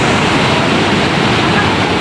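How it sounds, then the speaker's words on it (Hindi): The Saraswati river rushing past Bhim Pul near Mana village, a loud, steady broadband roar of fast water that holds unchanged throughout, with no clear voices above it. "भीम पुल पे माना गांव में ये देखिए सरस्वती नदी"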